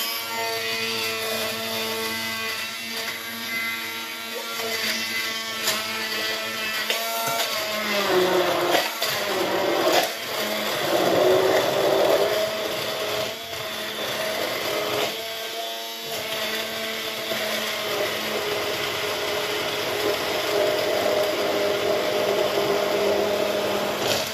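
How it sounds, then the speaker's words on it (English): An electric blender grinding spices runs steadily for the whole stretch, a loud, even motor whine with shifting pitch as the contents churn, heard alone without talk. "I'm going to blend my spices"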